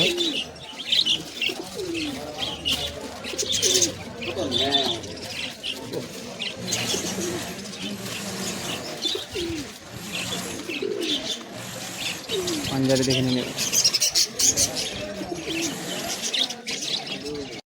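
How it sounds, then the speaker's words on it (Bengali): Pigeons coo and chirp steadily throughout a busy pigeon market at Sarenga, Howrah, with occasional wing flaps and someone talking over the birds. "একটি পায়রা আপনি দেখাচ্ছি দেখুন সারেঙ্গা হাটে গোল্ডেন চোখা আছে"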